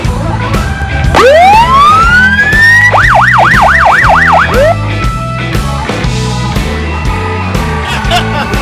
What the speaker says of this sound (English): Can you hit the siren for us?